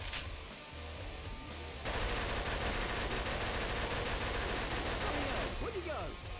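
Rapid automatic gunfire from the video game Killing Floor breaks into a loud, dense, sustained burst after quieter game ambience, then drops back near the end.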